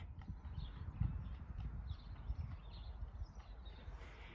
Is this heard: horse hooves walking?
yes